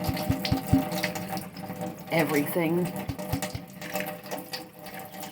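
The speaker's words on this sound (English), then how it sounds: "then get the water going to where it's hot" Hot water runs from a tap into a reusable bottle, a steady splashing flow with irregular knocks, while a person talks over it.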